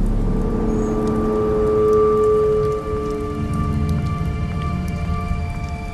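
Steady rain pours down in The Wolf Among Us, a dense, close patter on surfaces with a low tonal hum beneath it and no voices.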